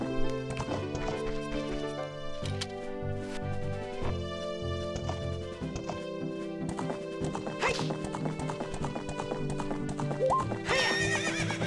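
A horse gallops with rapid clip-clop hoofbeats and lets out a neigh in Zelda: Ocarina of Time, set against bright, busy game music.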